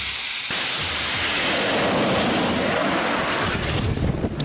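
A steam-powered truck hisses out steam, a loud, continuous rushing hiss that fills the scene from just after the start to the end, close by.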